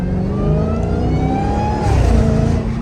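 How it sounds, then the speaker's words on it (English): A Dodge Hellcat with a Corsa Extreme exhaust accelerates in afternoon traffic, heard from inside as a loud, continuous engine drone with rising whine tones climbing in pitch, then a brief shift before building again. "That Corsa Extreme really makes some noise."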